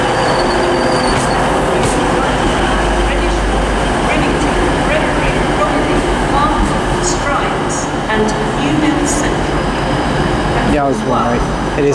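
A TransPennine Express class 185 diesel train at Manchester Piccadilly station, running the service to Huddersfield, gives off a steady loud rumble and hum close by, with occasional squeals and hisses over the continuous noise.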